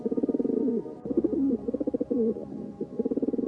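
Pigeons coo inside a dome's iron truss openings, a soft, repeated rolling call in rhythmic phrases with brief gaps, fairly close and alone without voices.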